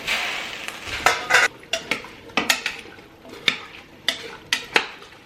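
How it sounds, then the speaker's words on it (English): Clattering of a metal pot and utensils while straining a boiled moonshine apple mixture, a string of sharp clanks and scrapes spaced unevenly over several seconds, close by with no talk. "I'm actually gonna strain it first."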